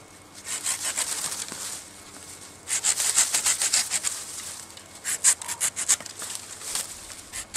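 A hand saw rasps through wood outdoors in Latvia in quick back-and-forth strokes, pausing briefly before resuming at a steady, close rhythm.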